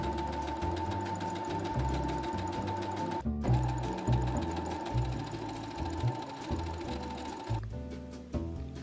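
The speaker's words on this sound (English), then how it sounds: "I adjusted the stitch length on my sewing machine" A home sewing machine runs rows of long gathering stitches through petticoat fabric, a close, steady mechanical whir broken by one brief pause and a change of pace near the end.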